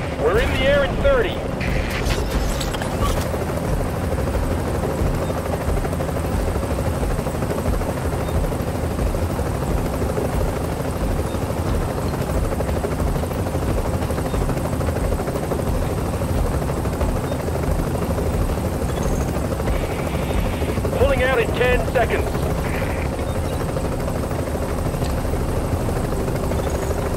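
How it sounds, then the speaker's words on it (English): Steady, loud rotor drone of a helicopter in the video game The Division fills the whole stretch, with wind-like rumble and a few brief electronic tones layered over it. "Okay, we're putting the chopper down."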